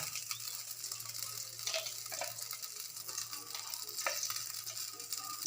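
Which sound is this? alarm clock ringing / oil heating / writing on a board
oil heating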